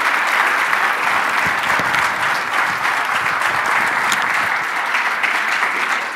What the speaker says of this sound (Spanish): y le otorgamos un aplauso.